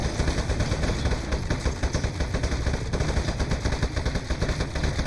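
A turret in the video game Aperture Desk Job fires rapid, continuous automatic bursts, a loud steady rattle of gunfire throughout with no talking.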